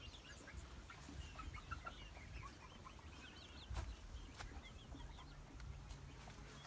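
A flock of hens with a rooster clucks faintly in the distance, short scattered calls and chirps over a low, steady outdoor hum.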